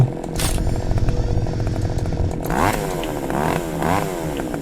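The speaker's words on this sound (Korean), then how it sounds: "아 전기톱 진짜 너무 무서운데" In a horror game scene, a chainsaw drones loudly with a buzzing, rattling engine note. It surges into louder revving pitch sweeps partway through, with no one speaking over it.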